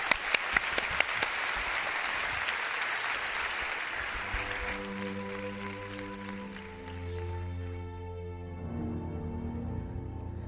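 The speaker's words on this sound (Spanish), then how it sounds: "te doy un abrazo y las gracias y este aplauso de toda la gente que ha venido aquí" An audience applauds for a few seconds, sharp claps fading as a musical jingle with sustained tones takes over and plays alone to the end.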